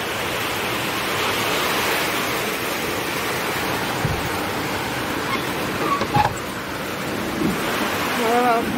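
Wind storm with rain outside, a continuous loud rushing wash of wind and rainfall with a few brief knocks and gusts.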